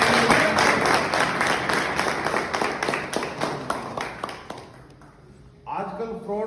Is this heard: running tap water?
no